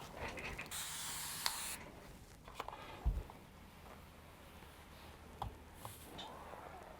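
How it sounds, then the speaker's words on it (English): A couple of quick, soft hissing bursts from a spray mister onto skirt fabric, with faint clicks of the trigger and quiet background rustling. "I'm going to go ahead and give it a spritz with my spray mister"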